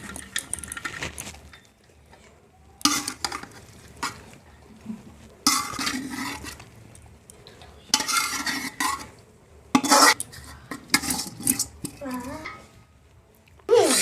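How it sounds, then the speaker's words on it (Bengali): A large quantity of chicken biryani is stirred and mixed in a big pot, with bursts of metal spoon scraping and clanking against the vessel separated by quieter gaps, close by, with some speech in between. "খুব ভালোভাবে মিশিয়ে নেব সব কিছু।"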